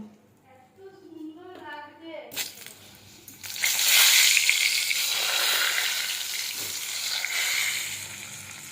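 Boiled potatoes drop into hot mustard oil with turmeric and salt in a wok, bursting into a loud hissing sizzle that settles into steady frying after someone speaks at the start.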